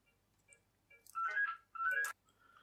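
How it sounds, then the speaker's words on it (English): A phone ringtone plays in the background of a room, two short melodic bursts of electronic tones, moderately faint and without talk. "Sorry, phone in the background."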